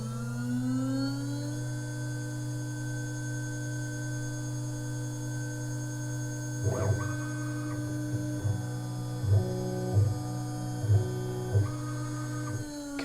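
A CNC router resumes cutting after a tool change. A steady mechanical hum plays alone, then shifting motor whines step up and down in pitch as the machine moves in short, repeated passes.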